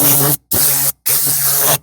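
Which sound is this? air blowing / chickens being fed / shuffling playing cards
air blowing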